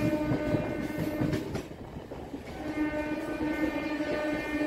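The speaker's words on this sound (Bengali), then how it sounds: "ট্রেন ঢুকছে সাঁতরাগাছি জংশন স্টেশনে" A local train pulls into Santragachi Junction station on the Howrah–Haldia line, a steady loud rumble of wheels and carriages with a sustained horn tone running through it, no voices.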